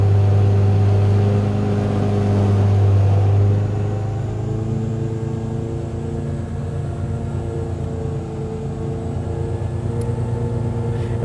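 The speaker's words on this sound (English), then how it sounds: "And we're now running the engine at 3500 RPM." A car engine holds a steady 3500 RPM on a dynamometer during tuning, a loud continuous droning hum with strong low harmonics and no voices.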